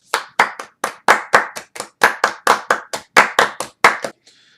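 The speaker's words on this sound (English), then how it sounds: "a round of applause for Trouble." A lone pair of hands claps about fifteen times in a brisk, even rhythm, close and crisp, with no voices, ending in a brief faint rattle.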